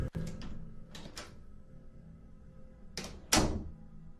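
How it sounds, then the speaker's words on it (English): A bathroom door opens in a quiet building, with a sharp click followed by soft thuds and rustling, then a louder knock-like thump near the end. "the bathroom door opens"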